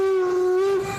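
A steam locomotive whistle, from a 25 mph engine that burns 2,000 gallons of water for steam, sounds at the Golden Spike site as one loud, steady, close tone held for about a second.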